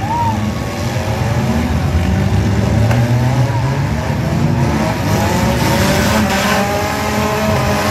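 Demolition derby cars rumble and rev in the pit area before inspection at a country derby, a steady loud engine drone with rising revs throughout and faint voices in the background.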